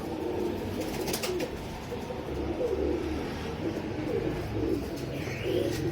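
Soft, repeated low cooing of pigeons, close by, over a steady background hum with occasional faint chirps.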